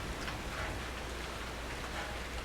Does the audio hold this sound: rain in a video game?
yes